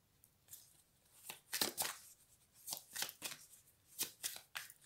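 Tarot-style cards are shuffled and handled during a card reading, a series of crisp, close riffling and slapping bursts in an uneven rhythm, with no talk.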